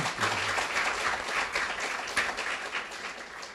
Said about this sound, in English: Let's give an applause to that